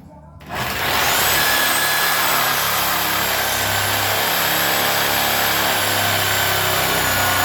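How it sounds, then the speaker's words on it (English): Sawzall reciprocating saw cutting through a seized car body bolt on a burnout car frame, a loud harsh sustained buzzing roar that starts abruptly and holds steady, close up. "after 2 Sawzall blades to cut that gnarly thing out"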